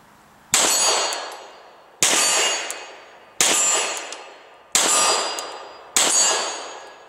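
Five loud, ringing metallic clangs from Glock 19 9mm pistol rounds striking steel targets, evenly spaced about a second and a half apart, each ringing out and decaying before the next, with no talking.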